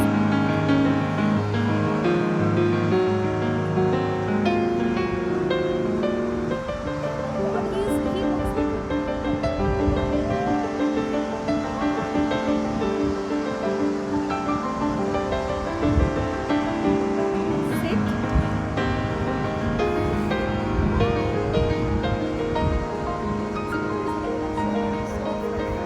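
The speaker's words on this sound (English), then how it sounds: "So enjoy the sound of waves for some time" Ocean waves breaking on the shore in Mumbai, a steady broadband wash of surf that stays loud and continuous throughout, with a dense rushing texture and no clear pauses between swells.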